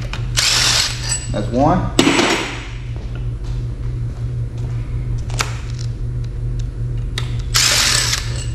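Ratchet and power-tool bursts loosen cylinder head bolts on an LS engine being torn down for a budget build, with a steady low hum and intermittent clicking; someone speaks briefly.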